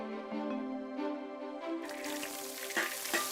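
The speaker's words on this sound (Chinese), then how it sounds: "最關鍵咧就要爆香啲蝦米，等啲鮮味出嚟" Dried shrimp stir-fried in a pan as a base for a salty glutinous rice ball soup, a hum giving way to a loud, close burst of sizzling with a few scraping stirs.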